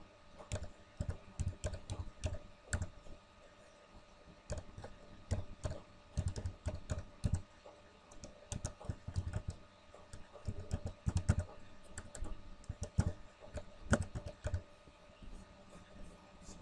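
Soft, irregular computer keyboard typing, with bursts of clicky keystrokes and short pauses, while a password is entered for a MySQL Workbench database export.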